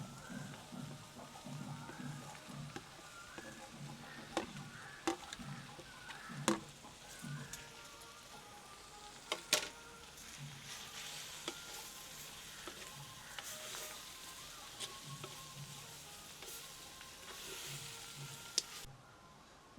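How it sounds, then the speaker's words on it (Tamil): Bitter gourd stir-fries with fried onion, garlic and curry leaves, giving a steady crackling sizzle with repeated sharp clacks of a spatula against the pan, close and moderately quiet. "இதோட சேர்த்து பொரித்து வச்சுக்கிற வெங்காயம், உள்ளி, கருவேப்பமிலை எல்லாத்தையும் ஒன்றா சேர்க்கப்படும்"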